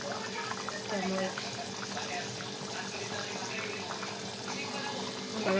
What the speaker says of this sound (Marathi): बघा किती भारी उकळी आलेली.